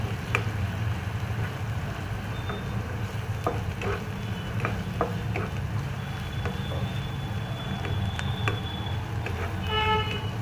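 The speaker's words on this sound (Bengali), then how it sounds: "এটাকে একটু লাল লাল করে ভেজে নিই, কাঁচা পেঁয়াজের গন্ধটাও চলে যাবে।" Chopped onions fry in hot oil in a pan for a Bengali cauliflower and potato curry, a steady sizzle broken by scattered scrapes and clicks of a spoon stirring, close and moderately loud.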